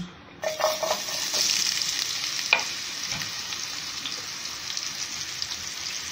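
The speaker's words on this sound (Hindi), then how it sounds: "मैं बहुत ज़्यादा डीप फ्राई नहीं करूँगी इनको मैं इसको शैलो फ्राई करूँगी" Yam pieces shallow frying in mustard oil, a dense, even crackling sizzle that holds steady throughout, with an occasional utensil knock near the start.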